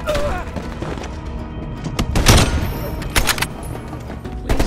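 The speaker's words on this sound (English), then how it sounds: "They're shooting at us!" Gunfire in Call of Duty Black Ops Cold War comes as sharp cracks and bursts with heavy thuds in between, loud and close, scattered irregularly through a few seconds of tense combat noise.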